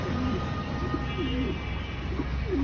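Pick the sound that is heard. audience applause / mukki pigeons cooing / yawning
mukki pigeons cooing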